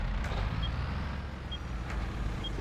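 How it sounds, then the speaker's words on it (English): A car engine in Farming Simulator 22 speeds up, a steady low rumble that holds at a moderate level throughout with no talking. "It was clear until that car sped up"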